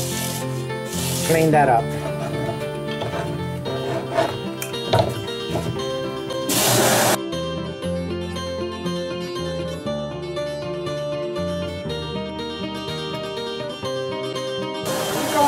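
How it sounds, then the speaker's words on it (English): A sander smoothing a carved eucalyptus wood water lily box, a steady rubbing grind running through the clip under a brief spoken remark, with sharper bursts as the tool works near the bottom of the petals. "Going in there with a sander"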